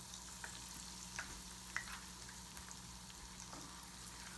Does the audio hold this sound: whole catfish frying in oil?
yes